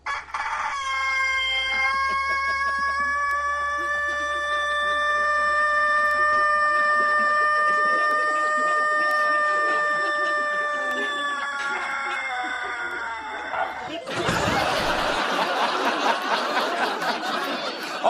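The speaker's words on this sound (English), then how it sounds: "the new record holder of the world's longest crow keeps the title for a tragically short amount of" A rooster, the world record holder for the longest crow, from a farm in Cumbria, gives one very long sustained crow that holds steady for many seconds and then breaks off into a loud, noisy burst at the end.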